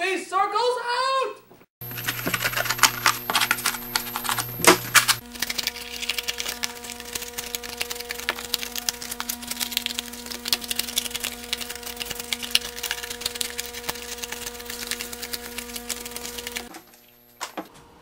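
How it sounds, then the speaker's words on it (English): Scissors cutting circles out of cardboard, giving a dense, continuous run of scratchy crunching snips close to the microphone, with a brief spoken line at the start. "Now you're gonna cut these circles out!"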